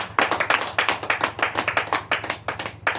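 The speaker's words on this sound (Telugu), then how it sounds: "గట్టిగా చప్పట్లు కొడతాం" A church congregation claps loudly and steadily, with many hands striking in a brisk, slightly uneven rhythm throughout, close and full.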